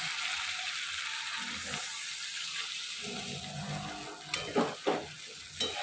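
Frying spice paste for an eggplant and fish curry keeps up a steady sizzle and hiss in a pan as water is added, followed by a few sharp scraping and clinking stirs near the end.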